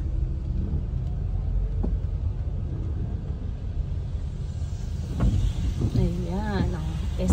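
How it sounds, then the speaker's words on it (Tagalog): Heavy road traffic crawls along S&R Molino Boulevard in Bacoor, Cavite: a continuous low engine rumble with passing vehicles, and voices rising briefly toward the end. "Traffic na traffic. Super haba ng pila."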